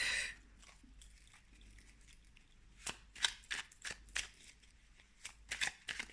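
Tarot cards are shuffled and one is drawn, giving faint, close papery swishes and flicks. After a quiet start, a few scattered bursts follow against a low background hum.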